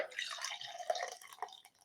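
Michelob Ultra beer pours into a glass with a steady fizzing, splashing trickle, close and fairly soft, with a few small drips and bubbles and no talk over it.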